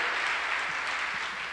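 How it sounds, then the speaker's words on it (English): An audience at a 1999 high school evening show applauds in a steady, dense wash of clapping that fills the whole short stretch at an even level. "Clap, clap, that's good."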